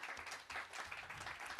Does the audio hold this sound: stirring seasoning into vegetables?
no